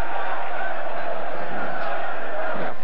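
A crowd in the Tijuca Tênis Clube gymnasium cheers a jiu-jitsu fighter, a steady, loud roar of many voices filling the hall from start to finish.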